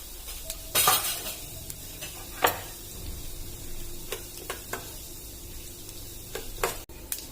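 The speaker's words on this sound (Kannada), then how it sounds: "ಇದಕ್ಕೆ 1 ಸ್ಪೂನ್ ಉದ್ದಿನ ಬೇಳೆ ಹಾಕ್ತಾ ಇದ್ದೀನಿ. ನೆಕ್ಸ್ಟ್ 1 ಸ್ಪೂನ್ ಸಾಸಿವೆ ಹಾಕ್ತಾ ಇದ್ದೀನಿ." Urad dal, mustard seeds and cumin fry in coconut oil, giving a soft, low sizzle broken by occasional spoon clinks and scrapes against the pan.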